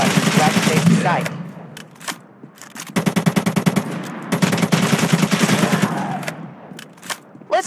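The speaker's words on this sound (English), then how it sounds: "Let's try some accuracy shooting." Rapid automatic gunfire from the Android shooter game ZOZ: Final Hour, several loud bursts of quick repeating shots with pauses between them, close and dominant, with short single shots near the end.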